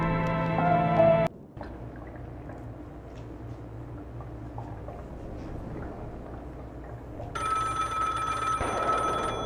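In the video game Strike from the Skies, an old-style telephone bell rings loudly, stops after a second, then starts again later over a low, quiet game ambience.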